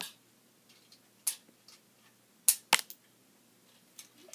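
Stud shooters on a Lego Republic Striker-class starfighter set fire plastic projectiles in a series of sharp, close clicks and snaps, spaced irregularly with a few quick doubles.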